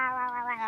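Cats fighting let out a loud, close, drawn-out yowl. The wavering caterwaul carries on without a break, and no talk is heard over it.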